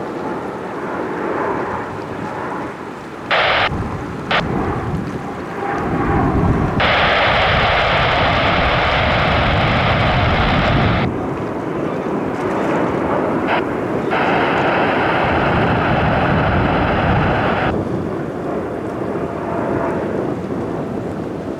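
Jets take off at JFK Airport, a heavy rumbling engine roar that builds and holds with broad wind-buffeted noise, loud and fairly close, with intermittent radio-like tones layered above.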